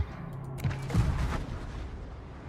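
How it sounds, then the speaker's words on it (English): Missile launches in the naval video game World of Warships: a muffled, rumbling burst of booms swells about a third of the way in, then fades into a steady low background drone at moderate loudness. "I really like the missile sounds."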